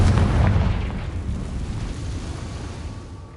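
A Confringo blasting spell detonating in Hogwarts Legacy, a loud low booming explosion that rolls on and slowly decays over about three seconds, with no voices.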